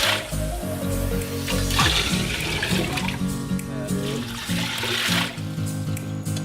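Tap water poured from a quart container into a large cooking pot, a gushing, splashing flow with gurgles that surges and eases several times, close and fairly loud.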